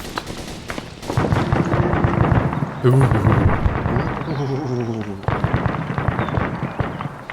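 Heavy machine gun fire in ArmA 3 during a squad attack drill, rapid bursts of shots ringing out at a moderate distance, with players talking over the firing throughout.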